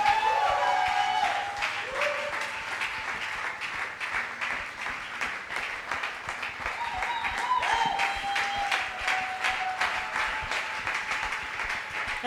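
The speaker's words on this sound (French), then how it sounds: "soyons debout alors que la servante de Dieu, grâce mande à s'approcher, on acclame le Seigneur" A church congregation applauds for the Lord in sustained, fairly loud clapping with scattered cheers, and a faint voice and tones rise above it at times.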